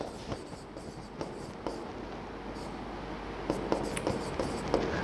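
Handwriting with a pen on paper, a soft scratchy scribble with occasional taps and strokes, close and fairly quiet, running continuously through the moment.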